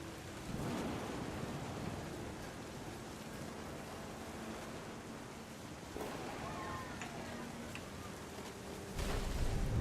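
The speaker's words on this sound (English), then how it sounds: "The thunder sounded much too close and full of angry power." Heavy rain pours steadily in the video game What Remains of Edith Finch, with low thunder rumbling and swelling louder toward the end, under faint speech.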